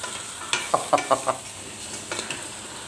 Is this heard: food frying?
yes